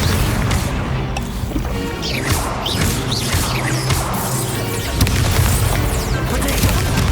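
Spells cast in the Hogwarts Legacy video game, Incendio and Leviosa, burst out as dense booming crashes and whooshing blasts, one after another over a loud, busy battle din, with faint voices underneath.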